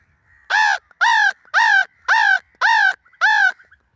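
Six loud, evenly spaced caws in a row, sounding like a person's voice imitating a crow, close up with short pauses between.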